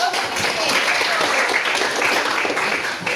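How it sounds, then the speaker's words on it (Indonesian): A classroom of students claps after a correct answer in a lesson, a dense, even patter of many hands sustained from start to finish. "Tepuk tangan dulu."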